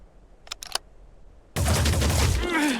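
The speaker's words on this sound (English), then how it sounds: "This is a shot I like for the turret." A few faint clicks come first. Then a sudden loud, continuous burst of turret gunfire from the Phoenix Point video game starts and roars on to the end, dense and close.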